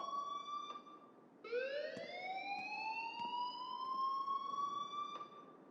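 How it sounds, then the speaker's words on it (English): A siren-like alarm in the video game Life is Strange wails steadily, one rising whoop after a short pause settling into a long continuous tone, faint and alone without talk. "please turn off that alarm since that's your job"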